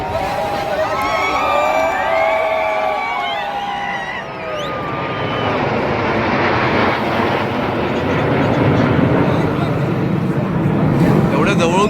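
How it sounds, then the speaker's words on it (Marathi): Loud roar of Indian Air Force planes sweeping past overhead at an air show at Marine Drive, Mumbai, engine noise swelling and fading over a noisy crowd, with people talking throughout. "जात आहेत ना विमानं"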